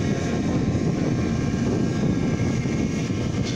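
A Wingcopter delivery drone flies in strong wind, its motors giving a steady, loud whirring drone mixed with gusty wind noise throughout.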